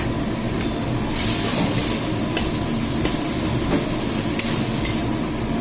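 Cumin paste sizzles in hot oil with turmeric in a pan, a dense steady frying hiss up close, broken by a few sharp spatula taps against the metal; no voices.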